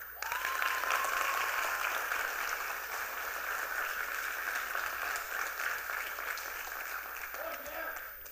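Town hall audience at a youth event applauding steadily for about eight seconds, a dense even wash of clapping that tapers slightly near the end, with a faint voice or cheer briefly audible early on.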